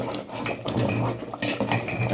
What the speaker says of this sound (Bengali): কনস্ট্যান্ট নাড়তে হয় তা না হলে না তলা ধরে যায়